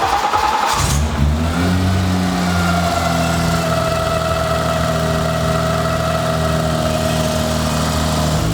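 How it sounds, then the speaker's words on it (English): A car engine idles high and steady with a constant droning hum close by, following a brief rougher burst at the start, with no talking. "Why is it idling so high?"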